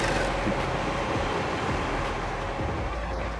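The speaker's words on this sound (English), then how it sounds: "Wow, another train is coming!" A train rumbles past at a distance, a faint, steady broadband roar of rail wagons with no talk over it.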